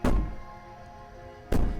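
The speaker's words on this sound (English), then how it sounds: "Bang on the door all you want, it'll only make you bleed out faster." Two loud, close thuds of fists banging on a door in the game Slay the Princess, spaced about a second and a half apart over a low, quiet background drone.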